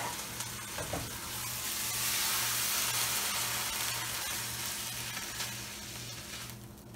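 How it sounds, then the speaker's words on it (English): Crepes steaming for moo shu pork produce a soft, steady hiss with a faint low hum beneath it, swelling slightly midway and easing toward the end. "I'm steaming the crepes now."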